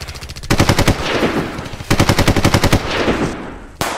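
Loud, close machine gun fire in rapid bursts, two long volleys of evenly spaced shots with a brief pause between, then a single sharp shot at the end, set in a comedic war scene.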